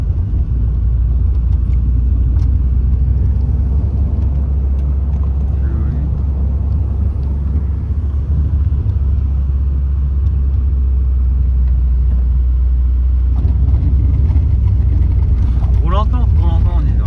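Car rolling slowly over a rough, damaged road through roadworks on small Italian back roads, a steady low rumble of tyres and engine with bumps, while people talk over it throughout.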